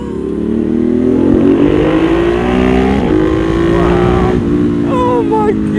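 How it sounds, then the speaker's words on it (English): A Ducati Monster 1200 with an SC Project full titanium exhaust is heard up close, its engine note rising and falling as the rider shifts, with some brief crackles toward the end. "Listen to the downshift. Wow. Wow, snap, crackle, and pop."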